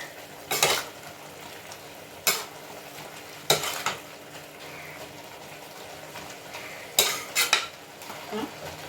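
A spoon scrapes and clanks against a pan while peanut and drumstick-leaf poriyal is stirred, with sharp metallic strokes at irregular intervals over a soft frying hiss.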